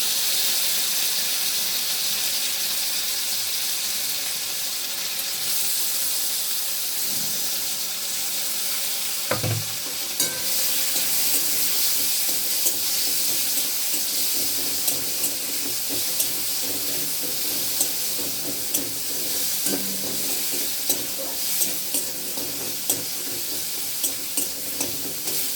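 Chopped tomatoes sizzling in a hot frying pan as they are stirred, a constant hiss of frying with scraping spoon strokes and a sharp clatter partway through, close and steady throughout.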